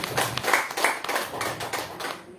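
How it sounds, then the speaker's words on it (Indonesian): An audience at a company gathering gives PT BES a round of applause, brisk close hand clapping with distinct sharp claps that thins out toward the end. "kita beri tepuk tangan dulu untuk PT BES yang sangat luar biasa"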